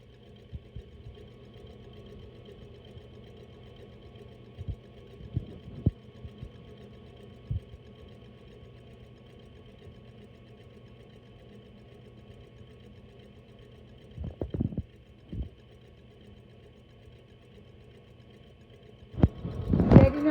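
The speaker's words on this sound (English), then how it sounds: "Definitely you gotta do this in a mixer." An electric mixer beats dessert batter with a steady, low motor whir that runs the whole time, broken by occasional clicks and knocks and a louder clatter near the end.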